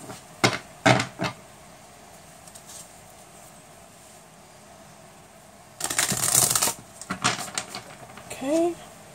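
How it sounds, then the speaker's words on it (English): A tarot card deck shuffled and cut: a few sharp riffles and taps early on, then a louder burst of flapping, sliding cards, close by, with a voice talking softly at moments. "I'm gonna cut the deck and let's get started"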